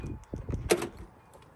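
The power door locks of a 1986 Nissan 720 extended-cab 4x4 pickup actuate with a quick mechanical thunk and brief whir, heard close up among a few soft interior clicks and no talking.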